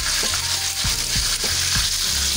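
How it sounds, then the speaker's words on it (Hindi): Ground onion paste frying in hot oil, with a dense, loud, steady sizzle and a few soft stirring bumps, close and with no voice. "अब मैं इसमें ऐड कर रही हूँ पिसी हुई प्याज"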